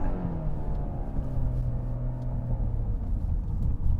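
A 2022 Genesis G80 luxury sedan with an 8-speed transmission accelerates hard, its engine note climbing steadily in pitch over a constant road rumble for about four seconds, close and fairly loud with no talking.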